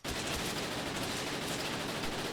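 Rapid, continuous gunfire in the video game Gorebox forms a dense, unbroken barrage of shots, loud and sustained throughout with no pauses.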